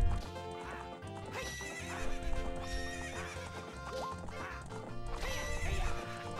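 Horse neighing and galloping hoofbeats during a horse race in the video game Zelda Master Quest, steady over layered game music for the whole stretch, with no talk.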